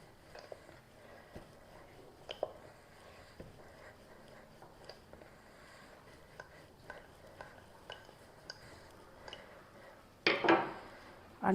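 Pumpkin and pearl millet paratha dough being rolled out with a little oil, heard as faint, scattered taps and soft knocks of a rolling pin on a board, then a louder clatter near the end, with no talk.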